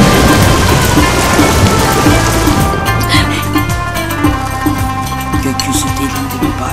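Heavy rain with thunder from a children's program: a loud, dense downpour roars at first, then thins into a softer patter under repeated low thunder rumbles.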